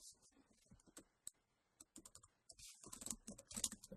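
Fingers typing on a computer keyboard during a programming tutorial in R, quiet irregular clusters of key clicks with pauses, close and soft, no talk.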